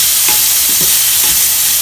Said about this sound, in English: Once the garlic turns slightly golden brown, we will add in the onions, and mix this together.